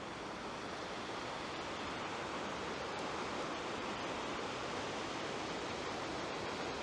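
Macun Creek flows just before it goes underground, giving a steady, broadband rush of running water that stays even and unbroken throughout, with no voices.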